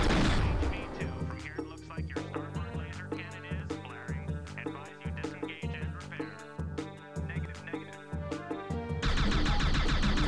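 Rapid laser cannon shots fire in a space video game, a dense run of sharp, evenly spaced electronic blasts layered over game sound effects and music-like tones.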